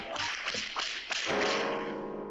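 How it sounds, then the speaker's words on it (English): Several quick whip cracks snap out one after another in a Courage the Cowardly Dog cartoon, from the mayor's office, loud and close, then giving way to a sustained tone of cartoon music. "They hear more whips coming from the mayor's office"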